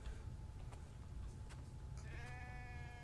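Sheep bleating in the survival video game The Infected, a short wavering call near the end over a steady low rumble of ambient game noise.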